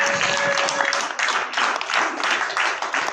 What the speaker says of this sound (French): nous allons acclamer pour la gloire de Dieu